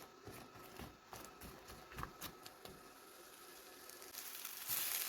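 Faint, dry scratching and crackling as chilies straight from the freezer are dry-roasted, stirred and tossed in a hot pan, with soft irregular scraping throughout.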